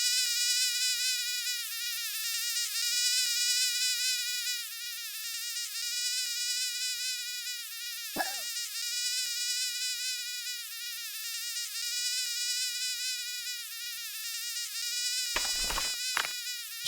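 A frog croaks in the video game Kick The Buddy, a loud, continuous buzzing, pulsing trill that runs throughout, with a few brief sharp hits near the middle and end.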